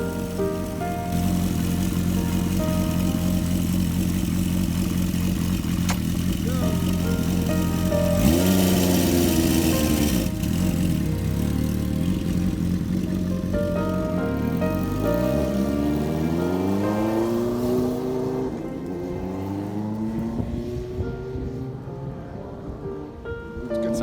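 A restored 1973 Honda CB350F motorcycle, run for the first time in about 30 years, rides up the street with a continuous engine drone that climbs and falls in pitch as it revs and shifts.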